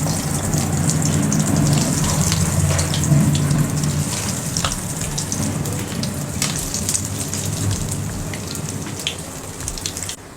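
Chicken lollipops frying in hot oil, a dense continuous crackling hiss with scattered pops, close and loud and holding steady throughout.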